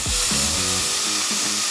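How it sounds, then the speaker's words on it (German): A power drill bores holes during a DIY project, its whining motor rising and dipping in short bursts against loud broadband noise, close to the microphone. "Da sollten wir jetzt die Löcher reinbohren."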